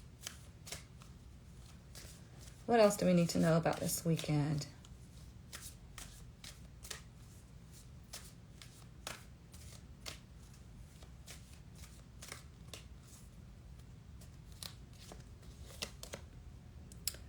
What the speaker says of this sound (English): No, this one I'm going to shuffle this way.